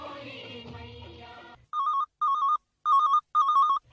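A telephone rings four times in an even, repeating electronic pattern for a call-in request program on a Raipur radio station, clear and alone after a brief stretch of devotional music.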